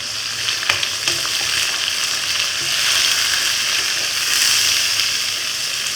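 Boiled chickpeas added to browned onions fry in a hot pan with a loud, bright, continuous sizzle, punctuated by a few close stirring clicks near the start.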